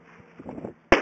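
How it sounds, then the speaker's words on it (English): A 12 gauge shotgun fires a single loud, sharp blast at close range at the very end. Faint low mumbling and rustling come before it. "That's with the shotgun."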